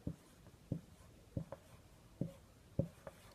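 Handwriting a word during a spelling lesson: about half a dozen short pen or pencil strokes scratch on paper in an uneven rhythm, close and quiet, with no voice.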